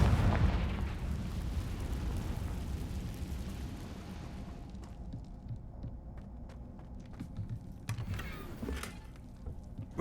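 A Confringo spell explosion in Hogwarts Legacy bursts loudly at the start, then a deep rumble slowly fades, with scattered small crackles and thuds afterward and no speech.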